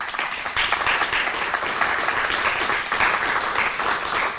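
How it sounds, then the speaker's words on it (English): Sustained audience applause fills a high school senior recognition ceremony, a dense steady wash of many hands clapping that holds at an even level throughout. "Let's give them a round of applause."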